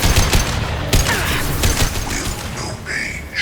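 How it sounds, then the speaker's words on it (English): A high-impact weapon shot from Mass Effect 2 cracks amid dense, continuous battle noise, sharp loud impacts followed by mechanical whirring tones, close and busy throughout. "Firing a high-impact shot."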